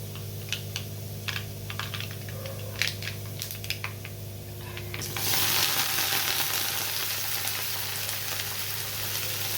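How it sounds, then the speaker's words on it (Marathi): Vegetables added to hot oil with garlic fried until reddish-brown, after earlier chili powder, salt and turmeric, for a mat leaf (amaranth) bhaji: scattered light ticks and clatters give way to a steady, close, loud sizzle, with no talk. "लसण थोडासा लाल होऊ देते, कलर लसणला आला की भाजी घालून घ्यायची"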